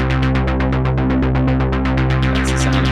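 An unfiltered synth tone drones steadily and loud, its bright buzzy body pulsing in a fast regular throb throughout, with no voice.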